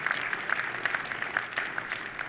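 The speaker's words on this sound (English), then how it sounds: "please join me of giving applause to the panelists" Audience applause for conference panelists at an ocean leadership event, a steady wash of many hands clapping at moderate distance, fairly even throughout with no voices.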